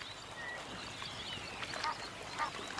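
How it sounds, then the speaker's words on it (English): A pair of Egyptian geese forage on aquatic plants in a stream in Kruger, giving a few soft, brief honking calls over a steady background hiss of flowing water. "A pair of Egyptian geese forages on aquatic plants growing in the stream."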